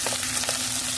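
Chopped onions fry and splatter in a hot pan for mapo tofu, a steady close sizzle with small popping bursts throughout and no talking.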